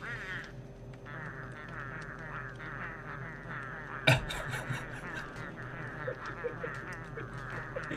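Repeated nasal quacking and honking sleeping calls from a Pengull, a penguin-gull creature in the video game Don't Starve, steady and fairly faint, with one sharp thump partway through.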